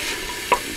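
Charqui, a dried meat, fries in a pan on a wood-fired stove with a soft, steady sizzle, and two quick stirring scrapes clack near the end.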